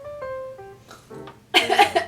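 A person gives a short burst of coughing right after some faint, tonal throat noises that imitate snoring. The cough is close and fairly loud and lasts under a second at the end.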